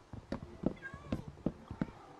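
A cat in Minecraft on PS5 meows several times in a row, short high mews repeated at close range, with quiet background sound between them.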